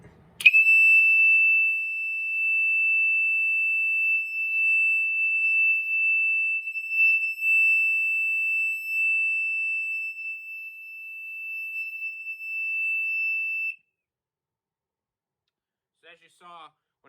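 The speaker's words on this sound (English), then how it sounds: "it turned on the fire bell circuit" A fire circuit on a Safe House 49-470 alarm panel sounds a single sustained, piercing electronic tone for about thirteen seconds, then cuts off, leaving brief faint clicks.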